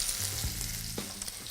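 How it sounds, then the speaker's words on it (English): A butternut squash terrine sizzles as it browns in a hot frying pan, giving a short, close, steady crackle and spit of frying with no voices. "listen for the sizzle"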